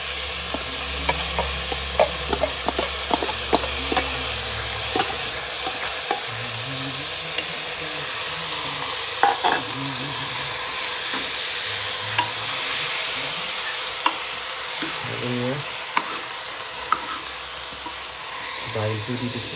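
Lentils (dal) sizzle and fry in a pan for khichdi while a spoon stirs them with repeated scraping clicks, close and steady, with a brief low voice early on.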